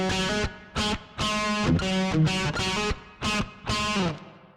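Electric guitar played through a distortion preset on a Saturn controller, heavy saturated chords struck in short rhythmic bursts with gaps between, close and loud with no talking.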